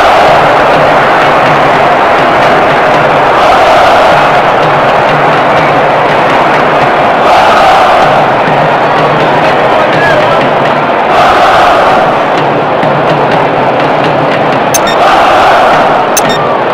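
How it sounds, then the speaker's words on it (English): A massive stadium crowd in the Pro Evolution Soccer 2010 game, Barcelona against Real Madrid, roars loud and continuously, with the noise swelling in waves throughout. "A huge roar of approval from the record crowd today."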